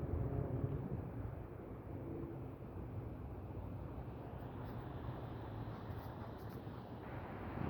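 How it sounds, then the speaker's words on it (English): Steady outdoor wind rushes and rumbles across the microphone on a clear day, a continuous broadband roar with no pauses and no voices. "Wind blowing today, sky clear"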